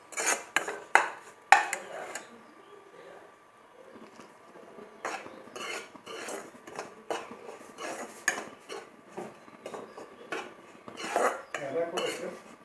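Atta flour frying in a pan for halwa, with irregular metallic clinks and scrapes of a spoon stirring against the pan, some loud and close, separated by quieter gaps and an occasional cough.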